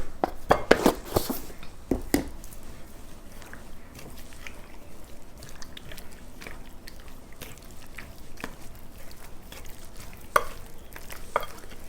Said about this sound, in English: You can see that the pieces are frying up and it's coming up pretty quickly.